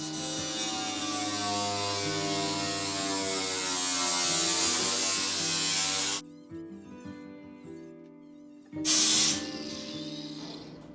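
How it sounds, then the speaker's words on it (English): An angle grinder cuts through HVAC duct metal with a loud, high, whining shriek that holds for about six seconds. It stops, clatters briefly, then cuts again in one short burst. "I'm just gonna cut this with a grinder"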